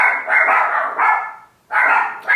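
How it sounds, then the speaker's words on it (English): Several dogs bark at home in loud, close bursts: a run of quick barks, a brief pause, then more barking. "Listen to my dogs barking."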